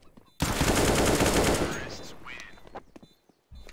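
Rapid automatic gunfire rattles out in a dense, loud burst in Counter-Strike on the de_inferno map during a headshot kill, then fades, with a short sharp report near the end.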